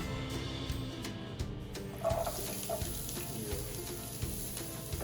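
Onions and peppers frying in olive oil give a steady, moderately loud sizzle with brief crackles and no talking.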